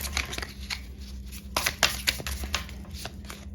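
Tarot cards riffle and slap together in several quick bursts during a reading, crisp papery flicks close by with a low steady hum underneath and no talking.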